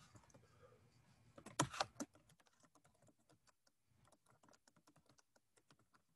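Typing on a computer keyboard during a classroom lecture, with a burst of louder clustered keystrokes early on followed by a long run of lighter, irregular taps, close and fairly quiet, with no talking.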